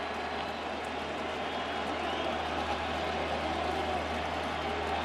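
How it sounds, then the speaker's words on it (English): A packed stadium crowd at a 2014 World Series baseball game, Giants at Royals in game 6, roars as a steady, loud, continuous wash of cheering. "And this crowd is having fun here in the second."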